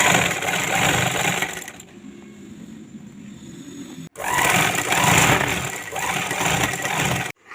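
A sewing machine stitching a cloth vegetable storage bag whirs in two long, steady motor runs, with a brief quieter pause between them and a sharp stop at the end.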